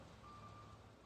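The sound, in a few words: truck reversing beeps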